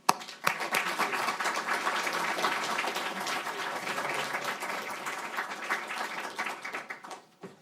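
An audience at a chronic-care policy event applauds to welcome Senator Wyden: steady clapping from many hands that starts sharply, holds at a moderate, slightly distant level, then tapers off near the end.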